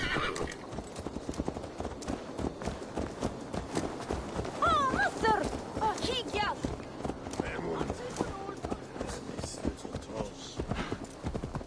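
A horse in Assassin's Creed Valhalla clip-clops along at a walk, close, irregular hoofbeats broken by a loud whinny partway through, with people talking over the sounds.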